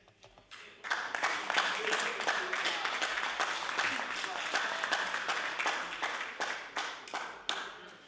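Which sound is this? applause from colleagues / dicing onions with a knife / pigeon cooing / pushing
applause from colleagues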